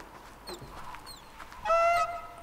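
A large bird in the video game Myst III: Exile, in the Edanna age, gives one loud, honking call after a few faint chirps, heard nearby with no talk.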